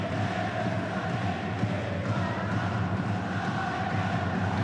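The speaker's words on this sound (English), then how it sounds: "Huge crowd, great noise." A huge football crowd at the National Stadium during the 2024 J1 League match between FC Tokyo and Albirex Niigata makes a steady, dense roar of noise that holds throughout.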